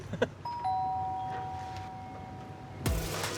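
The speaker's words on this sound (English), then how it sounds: "Press the bell to order." A counter bell at a restaurant serving pani puri and vada pav is pressed, giving a clear ding with a long ringing tone that fades over a few seconds against quiet room noise, followed by a louder burst of activity.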